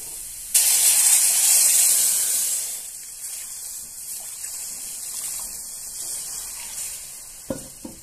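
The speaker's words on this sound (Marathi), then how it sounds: "इथे मिरची चांगली परतून झाली, आपण गरम पाणी घालून घेऊया" Hot water is poured into a pan of fried green chillies and erupts in a loud, sudden hiss and sizzle. The sound then settles into a softer, steady bubbling with a couple of faint clinks near the end.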